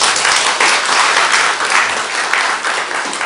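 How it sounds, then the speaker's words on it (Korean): A church congregation applauds its district leaders, a dense, steady wash of many hands clapping at close range that holds without a break throughout. "박수 한번 해줘요."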